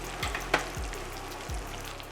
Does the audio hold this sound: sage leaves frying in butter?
yes